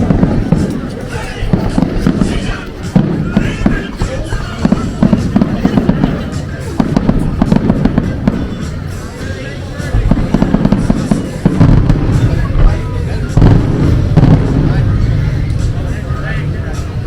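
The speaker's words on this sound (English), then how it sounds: "As you can hear, the fireworks is still going on." Fireworks grand finale at a Fourth of July show over the Myrtle Beach, South Carolina boardwalk, rapid bursts and crackling booms in dense succession, with crowd chatter and voices mixed underneath.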